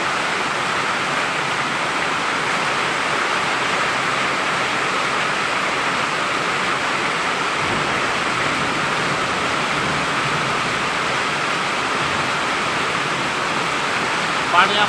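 A monsoon downpour in Malaysia drums down near a garage veranda as a constant, loud wash of hiss, while a voice is faintly audible under it.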